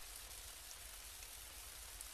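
Rain falls steadily outside as a soft, even hiss, faint and continuous with no other sounds.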